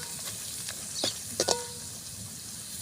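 Paneer simmers in a spinach gravy for palak paneer, giving a soft bubbling sizzle broken by a few sharp utensil clicks and taps.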